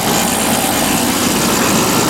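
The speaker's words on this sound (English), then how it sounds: "I don't remember the compressor sounding that angry." Compressor of a 2000 Whirlpool 10,000 BTU air conditioner runs with a loud, constant, harsh droning hum, close up and steady throughout, with no talk.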